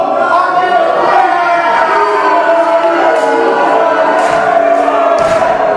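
Wrestling crowd at a TCW Spring Storm show cheers for Rich Swann, a dense continuous swell of shouting voices with sharp claps and yells scattered through.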